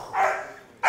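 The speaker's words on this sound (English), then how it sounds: "Got to bark strong first, though." A 6.5-month-old family protection dog in training gives two loud, close barks, the first drawn out and the second starting sharply at the end.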